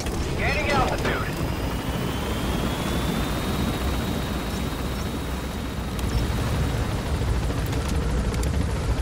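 Helicopter in Metal Gear Solid V: The Phantom Pain climbing, a steady loud rotor and engine roar filling the whole clip, with a faint rising whine and brief radio-style voice near the start.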